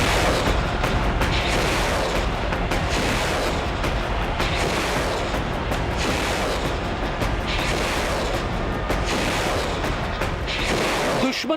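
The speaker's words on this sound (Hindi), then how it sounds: "भारतीय सेना और डीआरडीओ ने आकाश मिसाइल के एडवांस वर्जन का सफल परीक्षण किया है" Test firing of an advanced Akash missile by the Indian Army and DRDO at the Pokhran field firing range, heard as a loud, continuous roaring blast and rumble sustained throughout, with repeated booming surges and no talking.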